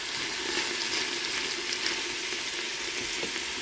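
Vegetables sautéing in a pot for soup, a dense, steady close sizzle with faint stirring, continuous and without speech.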